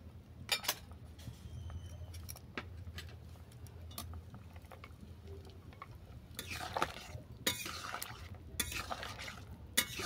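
Spoon stirring mustard paste and fried bori lentil dumplings in a cooking pot, with scraping and clinks against the metal over a low simmering background.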